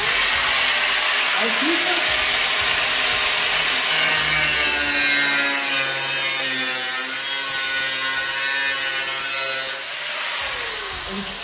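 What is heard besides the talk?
angle grinder cutting BMW E46 wide body panel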